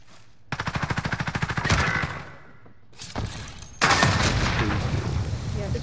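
Video game gunfire: a rapid, evenly spaced burst of automatic shots, then a pause and further loud shooting, close and sharp, with players talking in between.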